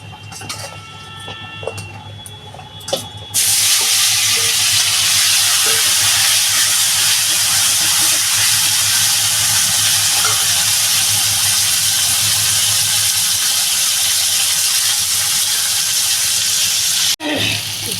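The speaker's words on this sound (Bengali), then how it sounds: "আমি এবার এই যে এই উস্তেটা তেলে ভেজে তুলে নেব" Bitter gourd (ushte) slices drop into hot oil and a loud, continuous sizzle breaks out, hissing steadily at close range for about fourteen seconds before suddenly dropping away. Quieter kitchen sounds come before it.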